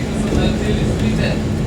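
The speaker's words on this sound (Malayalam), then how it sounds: "ട്രെയിൻ അതിവേഗം നീങ്ങിക്കൊണ്ടിരിക്കുകയാണ്" A train speeds along through Slovenia, heard from inside the carriage as a loud, steady rumble with rhythmic rattling, with what may be faint talk blending into the noise.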